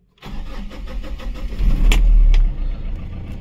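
A DJ pickup truck engine cranks and catches, the starter whirring before the motor surges loudly to life and settles into a steady close idle, with no talking.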